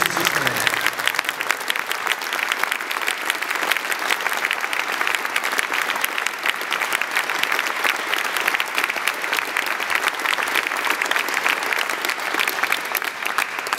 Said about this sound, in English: we can give all 8 of our companies a really loud round of applause